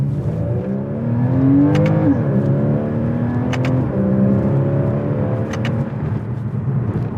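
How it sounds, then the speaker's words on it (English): Porsche Boxster accelerating in its sportiest setting on a canyon road, engine pitch sweeping upward through the revs, dipping at a gear change and climbing again, loud and close from the cabin. "as you can see, the acceleration isn't all that crazy"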